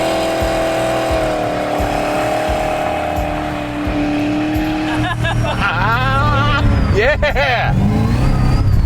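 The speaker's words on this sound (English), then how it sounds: "Oh, burnouts just never ever get old." A 2005 Pontiac GTO doing a burnout: a loud, steady engine roar with a squealing tyre scream rising over it toward the end, and a voice shouting briefly over the noise.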